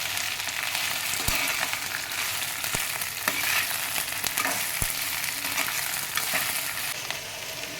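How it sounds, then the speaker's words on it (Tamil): Okra frying in a pan for vendakkai masala kulambu gives a steady, dense sizzle, with a few sharp clicks of stirring or utensil taps throughout. "இந்த டைமே நான் வெண்டைக்காயும் போட்டுற போகிறேன். வெண்டைக்காய் நல்லா வணங்கிட்டோம்."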